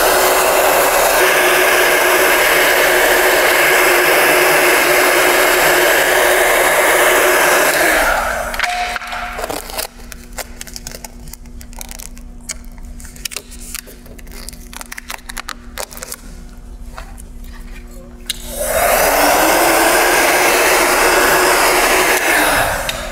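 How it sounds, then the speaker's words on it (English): A heat gun heating 3M car wrap film on a mirror blows loudly and steadily at close range, cuts out for about ten seconds of quieter handling noises, then roars back on. "I'm going to heat the film, the entire film this time"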